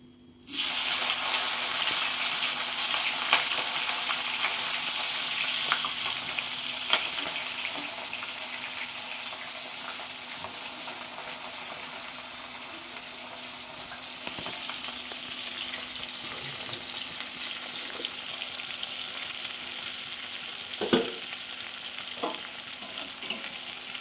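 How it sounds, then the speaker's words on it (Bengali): Sliced onions are dropped into hot oil already holding bay leaf and whole garam masala for a Bengali mutton curry. A sudden loud sizzle bursts in, then settles into a steady, close frying hiss with occasional stirring scrapes. "এবার তেলের মধ্যে দিয়ে দেব কেটে রাখা পেঁয়াজ"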